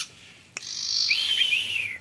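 A sirpu bird gives a bright, high chirping call after a soft click, a sustained warbling whistle that wavers and trails off, fairly close and alone.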